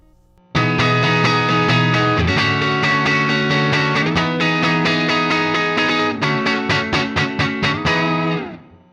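Electric guitar through the Fine Classics Vintage Vibe amp simulator, with boosted treble and mids, light reverb and overdrive: sustained ringing chords give way to quick staccato strums before a fading final chord, heard alone.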